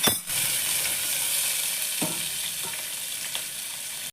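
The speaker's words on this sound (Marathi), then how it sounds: "बटाट्याच्या काप याच्यामध्ये टाकून घेते." Potato slices sizzle and fry steadily in a hot pan for a veg pulav, a constant bright crackle with a few stirring scrapes, close and loud throughout.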